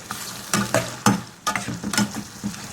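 Mutton liver frying in a pan and being stirred, with a steady sizzle broken by repeated scraping stir strokes close up and no voices.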